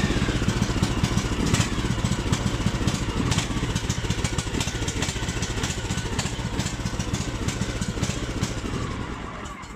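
IRBIS Tungus 600LE snowmobile engine on its stock carburetor running steadily and loudly up close, a rough continuous drone with uneven pulsing throughout.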